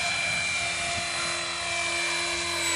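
A T-Rex 450 RC helicopter hovers nearby with a sustained high-pitched motor whine and steady rotor buzz, loud and even throughout without a break.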